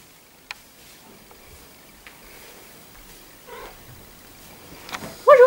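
A house cat gives a short meow at the end, after a quiet stretch of faint room noises, small taps and a soft vocal sound, fairly close and clear.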